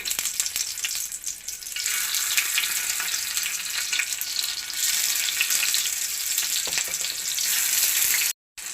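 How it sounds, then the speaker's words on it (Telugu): Tomato pieces frying in hot oil in a pan on a gas stove, a steady, dense sizzle that stays loud and constant throughout, with no talking and a brief cut near the end. "హీట్ అయిన తర్వాత తగినంత ఆయిల్ వేసుకొని కట్ చేసుకున్న టమాటా ముక్కల్ని పెట్టుకుందాం."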